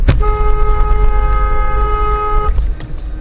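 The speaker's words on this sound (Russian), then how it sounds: "посигналь, что такое?" A car horn blares in one long sustained honk lasting about two seconds, loud and close, set against steady street traffic rumble, with a short thump at the start.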